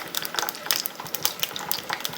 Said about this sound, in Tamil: இந்த பிறகு கடுகு, கொஞ்சம் வெந்தயம், பெருங்காயம் எடுத்து தாளிச்சு வச்சுக்கிறேன்.